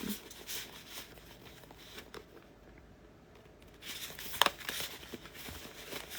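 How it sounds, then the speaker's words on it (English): A deck of tarot cards is shuffled by hand, producing faint papery riffling and soft flicks in short bursts, a quieter pause in the middle, then a crisper snap of cards near the end. "it takes me forever to shuffle these cards"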